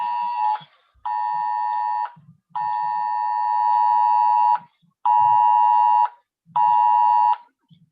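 Amber Alert emergency tone blaring from a mobile phone during a board of selectmen meeting, loud repeated harsh beeping bursts of about a second each with short gaps, alone in the room.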